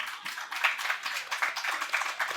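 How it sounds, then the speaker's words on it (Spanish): A live audience at a Spanish-language podcast show claps in steady applause, dense and fairly close, holding level for a couple of seconds with no talk over it. "Voy a dejar los aplausos que siempre quedan bien."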